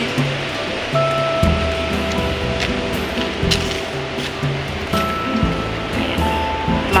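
Sea waves washing onto a beach under wind, a constant loud rushing surf with gusting noise and faint tonal background sounds, close and steady without speech.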